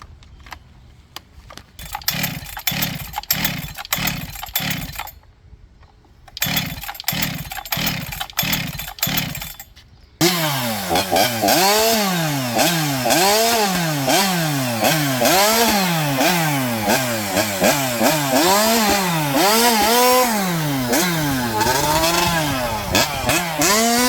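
Chainsaw powered by a 1997 Yamaha YZ250 two-stroke engine with a 3/8 chain: a few short sputtering bursts and a pause, then a loud sustained buzzing run with rising and falling revs as it cuts.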